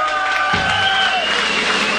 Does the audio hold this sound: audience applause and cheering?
yes